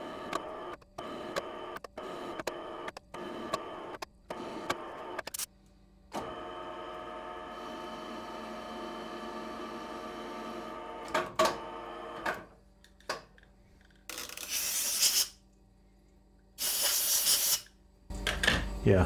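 A single-point threading tool cuts a thread on a wheel hub on a Deckel S0 lathe, giving a steady mechanical whir with tonal hum, broken by sharp bursts and pauses, with faint voice-like sounds in places.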